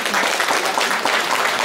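Concert audience clapping for an Icelandic band at a live show in Wrocław, Poland, a short burst of loud, dense applause filling the hall evenly.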